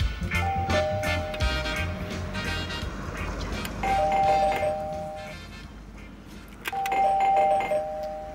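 A doorbell chimes three times in a ding-dong pattern, each ring a clear two-tone electronic chime spaced several seconds apart, loud and near, amid indoor background noise in a television drama scene.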